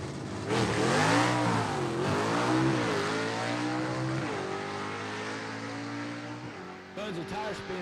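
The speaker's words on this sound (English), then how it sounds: "Tons of tire spin right there for Ronnie Jones." A drag racing gasser car launching at Gulfport Dragway in Mississippi, its engine roaring loudly as its tires spin, with rising and falling pitch sweeps before settling into a steady drone, under a commentator's continuous talk.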